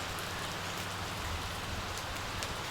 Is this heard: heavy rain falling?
yes